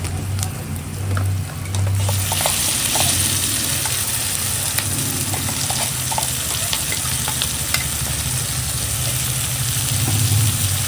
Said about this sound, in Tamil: இப்போ அந்த கிரவுண்டட் மிக்சரை வந்து ஆட் பண்ணிக்கலாம்.